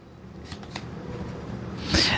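Tarot cards are shuffled by hand in a quiet room, making soft papery riffles and flicks followed by a brighter, louder burst of card handling near the end.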